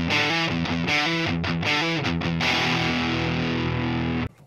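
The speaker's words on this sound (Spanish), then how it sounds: "esto es con el pedal activado" Electric guitar played through a Rocktek ODR-01 overdrive pedal with the level at maximum, giving loud, steady distorted chords and riffs that ring close and continuous for about four seconds before cutting off abruptly.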